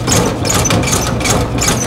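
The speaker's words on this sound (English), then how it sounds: "Tractor's running?" A steady, loud tractor engine chugs continuously with a rhythmic pulsing throb, close by and unbroken.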